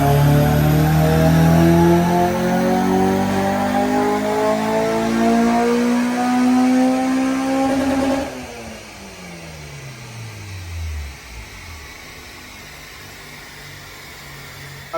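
A Honda Civic EP3 Type R with an induction kit fitted, strapped to a dyno for a power run, revs with rising pitch for about eight seconds, then snaps off the throttle and winds down in a falling, fading whine.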